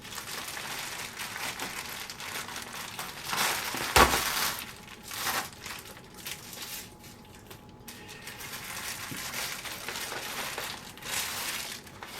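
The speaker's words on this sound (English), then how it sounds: "now can I rip this without using scissors first?" Crinkly plastic packaging from a model ship kit is torn and crumpled by hand, with scattered rustling bursts and one sharp crackle partway through.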